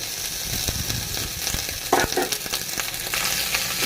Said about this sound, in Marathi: असं डाग पडेपर्यंत आपल्याला भाजून घ्यायचं आहे